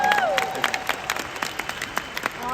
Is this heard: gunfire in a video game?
no